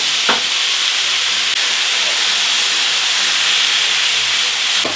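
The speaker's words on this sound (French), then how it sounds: "On va la faire saisir sans gras car ma viande est assez grasse." Meat sears without fat in a pan for chili, giving a steady broadband sizzle and hiss throughout, with a couple of faint stirring scrapes near the start and end.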